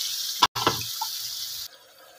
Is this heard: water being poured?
yes